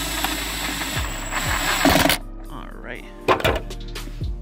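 A ratchet drives an 8 mm bolt on the battery hold-down clamp of a 2015 Ford Mustang GT, giving quick clicking strokes and a few metallic knocks close by, with some engine-bay clatter.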